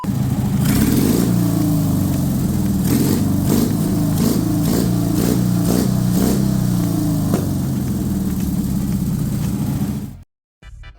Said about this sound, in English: I successfully adjusted those carburetors. This engine runs without the choke right now.